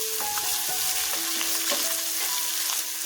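Tomato paste is stirred into tomato soup in a hot pan, giving a steady sizzle with a few short scraping strokes of a spoon.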